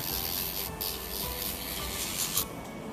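An electric nail drill fitted with a sanding bit runs across fingernails in a nail salon, giving a steady close-up whirring, grinding rasp that continues for the whole stretch, with no voices.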